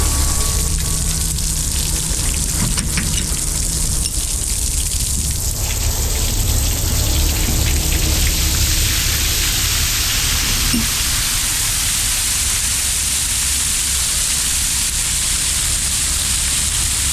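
Steady rain falls on a yard with a truck nearby, a loud continuous broadband hiss of drops with scattered splashes and gushing water running throughout, no voices.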